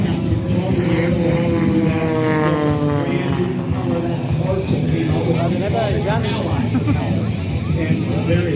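Propeller airplane with a big 500 cubic inch, 150 horsepower engine spiraling at an airshow, its throbbing, shifting engine drone rising and falling across the pass while a voice talks over it and crowd babble continues.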